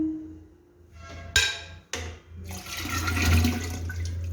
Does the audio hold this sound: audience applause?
no